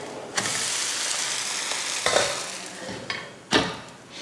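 Uthappam sizzles and fries steadily in oil on a pan, with a few sharp scraping and clattering bursts from a spatula as it is flipped, loud and close with no talk.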